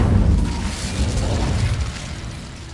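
A fire spell cast in Hogwarts Legacy, a loud, dense whoosh with a booming low-end burst that sustains across the clip and fades slightly toward the end.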